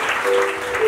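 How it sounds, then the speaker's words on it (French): Brief burst of audience clapping at a Bible competition event in a church setting, a dense patter lasting about a second with a faint sustained tone underneath. "Sous vos applaudissements."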